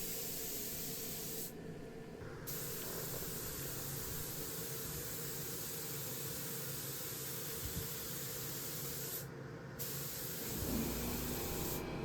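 Primer sealer sprayed onto furniture with a spray gun, a steady close hiss running the whole time with two brief pauses.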